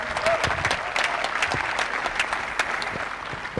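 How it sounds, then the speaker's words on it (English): Steady applause from the crowd at a WTA 125 tennis tournament in Mumbai, with dense clapping throughout and some sharper claps standing out in the mix. "The loudest applause for them"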